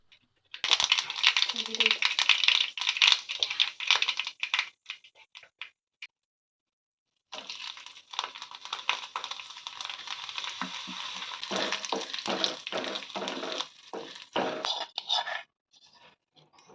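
Mustard seeds, curry leaves and red chilli crackle and spit in hot oil in a pan, a bright, busy popping sizzle that stops briefly, then resumes and fades out.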